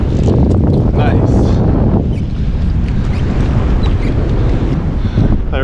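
Wind gusts and buffets the microphone on a fishing boat out on a Minnesota lake, a loud, rough, continuous rush with occasional voices faintly underneath.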